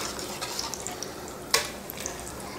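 Masala bonda fry in hot oil at a tea-shop stall with a soft, steady sizzle and small crackles, plus one brief sharp clink partway through.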